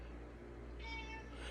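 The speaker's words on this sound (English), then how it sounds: "He the only cat I ever known in my life that talked this much." A house cat lets out a single short meow in a quiet bedroom, faint against the steady hum of a small fan, with no voices.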